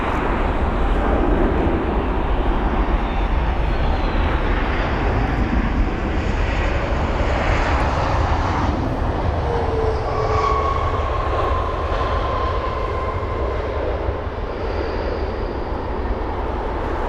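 A Boeing 737 MAX 8 airliner lands at London Heathrow with a loud, steady jet roar that fills the whole stretch and eases off slightly toward the end, with no voices over it.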